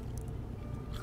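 A crunchy Fuddruckers onion ring is bitten and chewed up close, a brief moist crunching against a steady background.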